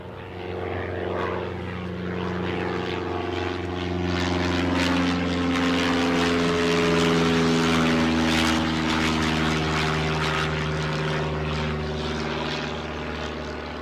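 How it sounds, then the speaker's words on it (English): A Lufthansa airliner takes off at Newcastle airport with a loud, sustained engine roar that builds to a peak midway and then slowly fades as it climbs away. "I'll let us enjoy this takeoff"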